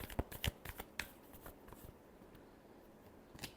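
Tarot cards being shuffled by hand, a quick run of crisp riffling slaps and flutters up close at the start that thins into soft, faint rustling.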